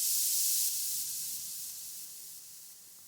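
Synthesized white-noise tone layered with sine and sawtooth waves, a steady bright hiss that slowly fades over a few seconds, heard alone with no voices.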